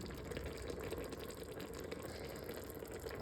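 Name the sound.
water being poured into cooking pot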